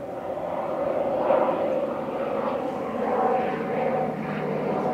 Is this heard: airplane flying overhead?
yes